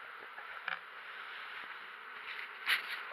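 Honeybees buzz around a hive in a soft, continuous drone, with a few louder passes as individual insects fly close by.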